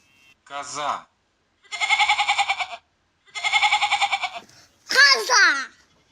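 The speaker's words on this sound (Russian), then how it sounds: "Коза." A cartoon goat bleats in an educational animal-sounds animation for children: two long, loud, wavering bleats with a steady pulsing tremolo, set between brief vocal sounds at the start and end.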